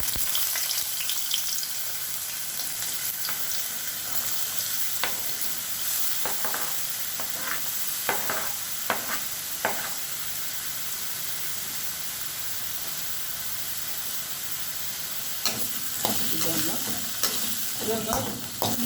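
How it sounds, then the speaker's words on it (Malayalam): Sliced bitter gourd sautéing in hot coconut oil for a Kerala thair curry, a continuous close sizzle and hiss broken by scraping stirs and clatter from a spoon against the pan, with no talking. "ഇത് കയ്പ്പക്കൊക്കെ ഒന്ന് വാട്ടിയെടുക്കാൻ വേണ്ടിയിട്ട്."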